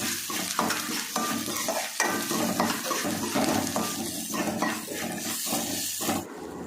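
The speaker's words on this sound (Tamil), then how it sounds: "வெங்காயம் வதங்கினதுக்கப்புறம் இஞ்சி பூண்டு பேஸ்ட் போட்டுக்கலாம்." Ginger garlic paste fries with onions and curry leaves in a pan for tomato thokku, a close, busy sizzle broken by repeated scraping stirs, with no voices.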